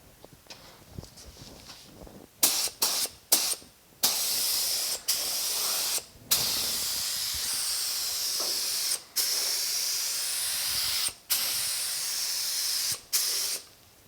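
A paint spray gun lays a coat on the seat skirt repair of a 1950 Chevy truck, sounding as loud close hissing bursts broken by short pauses, with quieter handling noise before the first burst.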